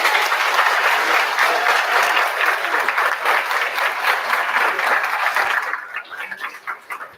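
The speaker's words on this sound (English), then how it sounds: "Give them a round of applause." A crowd at a student demo day gives a hearty round of applause, dense and loud clapping that holds steady for several seconds before thinning out into scattered claps.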